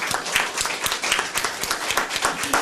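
A church congregation claps in encouragement for two people during a sermon, a brief burst of scattered, uneven hand claps with no voices over it.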